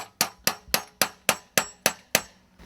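Nine sharp, evenly spaced hammer strikes drive a metal sap spout into a maple tree's tap hole, each hit ringing briefly, close and clear with no talking.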